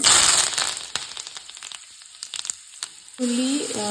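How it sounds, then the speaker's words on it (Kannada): Mustard seeds and cumin spit and crackle in hot coconut oil. The sizzle is loud and dense at first, thins into scattered pops, then swells again at the end. "ಕೊಕೊನಟ್ ಆಯಿಲ್ ಇದು ಬಿಸಿ ಆಗಿದೆ. ಇದಕ್ಕೆ ಸ್ವಲ್ಪ ಸಾಸಿವೆ ಮತ್ತು ಸ್ವಲ್ಪ ಜೀರಿಗೆ ಹಾಕಬೇಕು."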